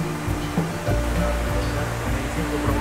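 Continuous rush of flowing water from Balaybayen waterfall in a forest in Berong, Quezon, Palawan, a steady broad wash heard close, with light handling bumps.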